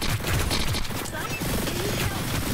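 Hyper Scape gunfire striking a wall in a steady, dense barrage of rapid impacts amid loud game action, continuous for the whole stretch.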